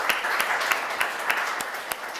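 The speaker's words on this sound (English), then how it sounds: "Give that man a round of applause" Audience applause follows a talk-show guest's win, a steady dense wash of clapping with a few sharper individual claps standing out, moderately loud throughout.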